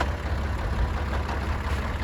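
Tractor engine with about fifteen hundred engine hours idling smoothly and without smoke, a steady low rumble that stays even and close with no talk over it.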